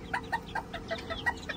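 A rooster makes a quick series of sharp, close clucks and short calls in a farmyard, over a low background hum.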